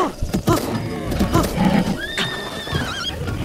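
A horse whinnies with a rising, wavering neigh in a Zelda video game, mixed with game sound effects and background noise.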